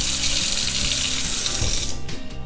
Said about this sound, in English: Fill your water bottle right to the line